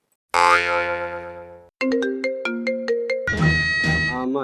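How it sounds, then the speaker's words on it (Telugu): A loud electronic phone ringtone plays a synthetic melody with bouncy, boing-like notes, continuing for several seconds with no one speaking. "రింగ్ అవుతుంది"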